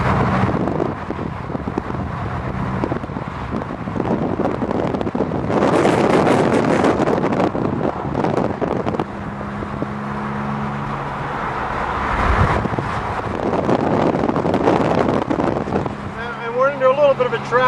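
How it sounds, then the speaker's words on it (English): Steady wind and road roar inside a car on a Southern California highway toward Las Vegas around rush hour, rising and falling in waves, with a voice talking at times. "A little bit of a traffic here"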